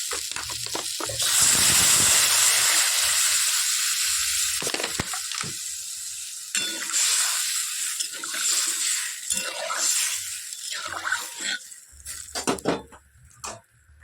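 Water pours with a loud gush into a hot pan of thin, oily fish curry, sizzling and bubbling; the rush settles into uneven crackling and clinks.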